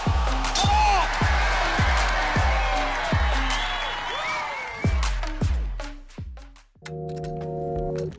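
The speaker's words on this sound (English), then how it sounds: "I like that slow motion clap from the gallery" Slow, evenly spaced claps from a disc golf gallery at a women's elite pro tour event, about a dozen loud sharp hits at a steady beat with crowd murmur beneath, then a brief tonal sound near the end.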